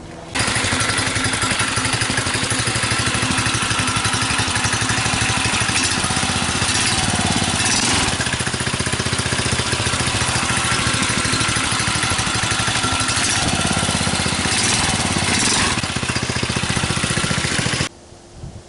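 A go-kart driven by a 6.5 hp, 169cc Subaru Robin single-cylinder engine runs steadily and loudly at high revs, a constant buzzing drone lasting nearly the whole time before cutting off at the end.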